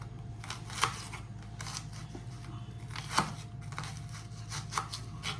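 A knife slices bottle gourd into large pieces on a board in a home kitchen, with sharp cuts at a slow, irregular pace over a steady background hum.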